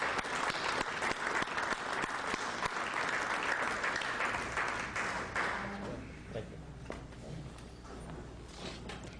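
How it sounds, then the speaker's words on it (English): Audience applause greets a speaker taking the stage at a common law class held in a Greek Orthodox church, a dense, steady clapping for about six seconds that then thins out into scattered claps and room noise. "could we have a warm round of applause for Bill Thornton, please?"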